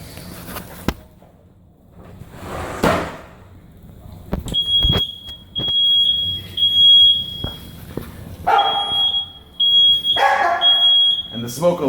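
A shrill smoke alarm, set off by frying potato mixture in hot oil, beeps in short repeated bursts, loud and close, while people talk and a dog barks intermittently.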